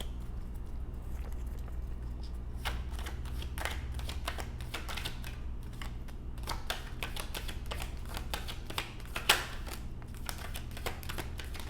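Tarot cards being shuffled, with a run of quick papery riffling taps that is soft and close and comes in bursts, heard alone without any talk.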